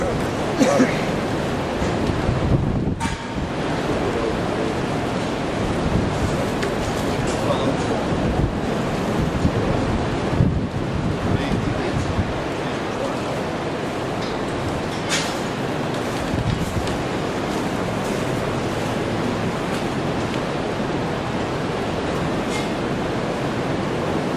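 Steady outdoor wind buffets the microphone at a dairy cattle field day, a constant broadband rush with gusty swells running throughout.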